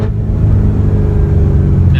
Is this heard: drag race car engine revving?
yes